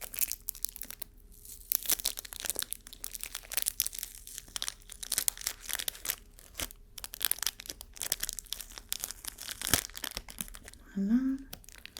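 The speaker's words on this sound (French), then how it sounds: "Donc je vais juste ouvrir le paquet." A contact lens packet is opened with crisp crinkling and tearing of the wrapper, close and quiet, in irregular bursts across the whole stretch, with soft speech breaking in near the end.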